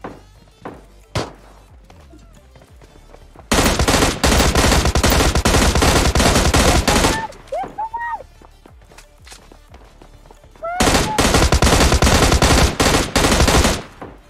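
Bursts of rapid automatic gunfire in PUBG Mobile Lite, two long volleys separated by a quieter stretch with scattered shots, loud and close.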